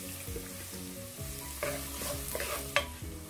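Chopped onion, ginger and garlic sizzle in hot oil in a pan while a spoon stirs them, giving a steady close frying hiss broken by scraping strokes and one sharper knock.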